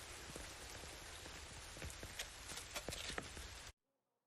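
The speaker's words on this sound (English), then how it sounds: "I just want to get out of this fucking rain." Rain in the video game The Division 2 pours steadily as a dense hiss with scattered louder drips and taps, then cuts off abruptly near the end into near silence.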